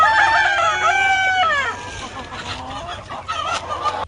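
Chickens cluck and a rooster crows loudly at close range on a poultry breeding farm raising broilers and laying hens, the crow rising and falling before it trails into scattered clucks.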